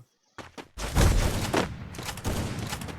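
Sniper rifle fire in the Free Fire video game: a dense run of loud, close gunshot bursts with a brief quiet gap at the start, then sustained rapid firing and booming impacts to the end.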